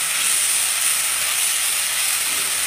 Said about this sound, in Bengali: ডাল দিয়ে দিচ্ছি তেলে